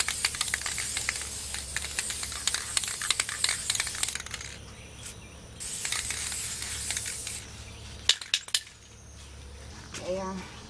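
White spray paint hisses from an aerosol can onto Portland cement mushroom yard decorations outdoors in Georgia, USA, in two long bursts separated by a pause, followed by a few light clinks and taps.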